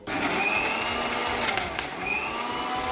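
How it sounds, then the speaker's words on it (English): An electric grinder whirs steadily for a few seconds while grinding spices for a ghee roast, a loud, high-pitched motor drone with a slight waver in pitch. "It's not the right grinder for this."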